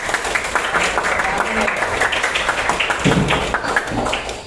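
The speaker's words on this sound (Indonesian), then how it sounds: "Kita beri tepuk tangan dulu untuk Dela" Students in a classroom clap for a classmate after her answer during a lesson on magnets, a scattered patter of hands mixed with voices.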